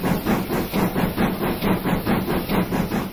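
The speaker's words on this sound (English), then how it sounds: "Driving this steam locomotive is probably the best business case for having VR in a train simulator" A steam locomotive in Train Simulator 2021 gives off a steady, close hiss with regular rhythmic chuffing pulses, heard alone with no voices.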